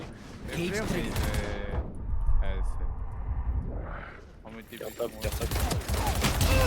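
Bursts of rapid gunfire in Valorant, loud and close, coming in clusters with a short lull in the middle, while a player talks over much of the shooting.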